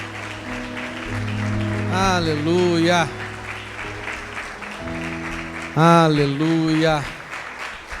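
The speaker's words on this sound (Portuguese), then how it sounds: "Dê uma forte salva de palmas ao Senhor" A church congregation at a Holy Communion service applauds with a steady wash of clapping throughout, while a voice sings or chants over it.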